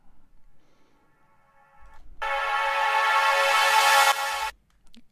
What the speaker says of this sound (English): during the build-up there is a reverse reverb like this